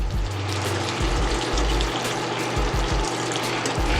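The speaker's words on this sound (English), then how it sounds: "We're going to add our rice wine vinegar." Rice wine vinegar, about a quarter cup, poured into a cooking pan for homemade cashew chicken, giving a close, steady liquid splash and trickle lasting a few seconds over a low kitchen hum, with no talking.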